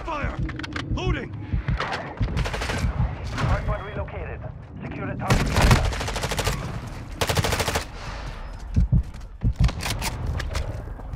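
Automatic-weapon fire and scattered gunshots in Call of Duty: Modern Warfare II multiplayer on the Farm 18 map, loud rapid bursts coming in clusters, with game voice callouts spoken over the shooting.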